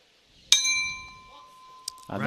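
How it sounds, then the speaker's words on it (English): A boxing ring's opening bell at the men's world boxing championships in Dubai rings with one loud metallic strike and a long, ringing decay, followed by a lighter second tap before a commentator begins talking. "And there goes the opening bell."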